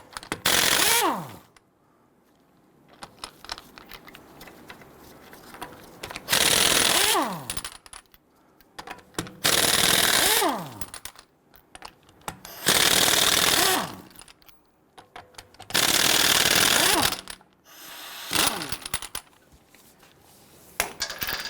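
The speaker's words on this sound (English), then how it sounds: "Using your 19mm socket, loosen and remove your lug nuts." A power tool with a 19mm socket spins lug nuts off a 2011-2019 Ford Explorer rear wheel, five loud whirring bursts each lasting about two seconds, separated by short quiet pauses.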